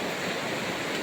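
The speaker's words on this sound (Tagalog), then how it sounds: "Ang lakas ng tubig eh." Strong floodwater rushes over a flooded road beside a river, a loud, steady, dense roar with no pauses and no voices.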